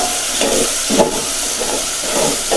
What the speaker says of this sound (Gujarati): હવે આપણે તેમાં પેસ્ટ નાખી દઈશું લસણ ને મરચાની।